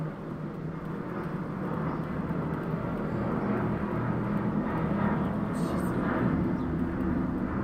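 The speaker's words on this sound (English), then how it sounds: "that plane is way too loud." A loud airplane flies overhead, a broad low rumbling roar that holds steady and swells slightly over several seconds, with speech underneath.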